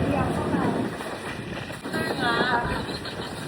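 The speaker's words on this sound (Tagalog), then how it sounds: "Hangin dito." Wind gusts buffet the microphone with a steady low rumble at Hanari in Mindoro, Philippines, while faint voices murmur in the background beneath the blowing.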